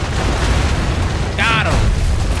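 Naval cannon fire and explosions in the Assassin's Creed 3 video game, a loud continuous booming rumble with a brief whistling streak partway through.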